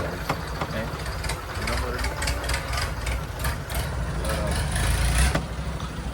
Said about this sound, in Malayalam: ഇടയ്ക്കിടയ്ക്ക് എൻജിൻ ഓഫ് ആവുന്നുണ്ട്, എന്താണെന്ന് അറിയില്ല